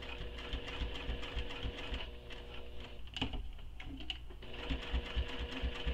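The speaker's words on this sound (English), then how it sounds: "I have to keep talking to myself as I'm stitching all the time for no back stitching." A sewing machine stitches a fabric wristlet with a steady, fast needle rhythm, heard close and continuous, with a brief softer pause partway through before the stitching picks up again.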